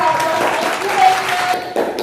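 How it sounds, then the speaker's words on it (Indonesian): Classroom applause for a student group at a teacher-training session, heard as continuous clapping throughout the short stretch with a voice faintly over it. "tepuk tangan untuk keluarga dua"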